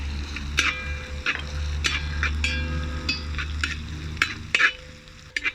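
Onion, ginger and garlic fry in a pan with a steady close sizzle, broken by repeated scraping stirs and a few clinks of the utensil against the pan.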